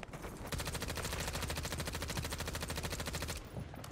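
Rapid automatic fire from an XM4 SMG loaded with fire bullets in a video game: a fast, even stream of close, loud shots for about three seconds, starting and stopping abruptly, with no talking.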